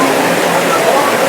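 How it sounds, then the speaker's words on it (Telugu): Water pouring down from the hill at Tirupati near a temple, a loud, steady rushing wash with no pauses, close by and filling the whole short stretch. "కొండపైన ఇంకా వచ్చే నీళ్ళు ఇవి చూడొచ్చు"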